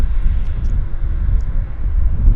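Low, steady rumble of a WestJet airliner at Vancouver Airport, a continuous broadband roar with engine drone filling the low end, fairly loud and close, with no talk over it.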